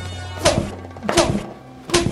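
Three sharp thwacking blows land in a steady rhythm about every 0.7 seconds, loud and close, each with a short thudding body, as someone is beaten in a comedic family scene.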